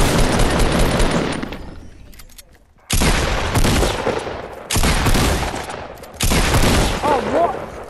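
Bursts of rapid gunfire in the video game Fortnite, loud and close, coming in several dense volleys separated by short gaps.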